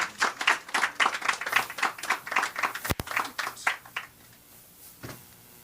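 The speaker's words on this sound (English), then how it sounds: "please welcome Mr. Thomas with a hearty round of applause" A small crowd at an outdoor lighthouse recommissioning ceremony claps for a performer, a sparse, uneven patter of individual hand claps with a sharp knock midway, trailing off into near quiet with a last clap.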